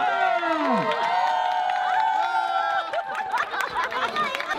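A crowd at a village contest cheers, whoops and claps for the winner, a woman in her forties, with lively chatter and shouting throughout, loud and close.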